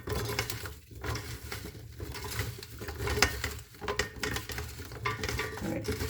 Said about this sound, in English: You just salt the radish and then you just mix it.